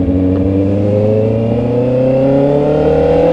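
A Honda CB650R motorcycle with a quick shifter revs hard under acceleration, its engine note rising steadily in pitch, loud and close, with a continuous strong drone throughout.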